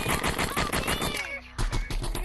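Auto shotgun fire in the Animal Rivals video game: rapid repeated blasts in a quick rhythm, with a short gap before another burst, mixed with game effects and players talking over it.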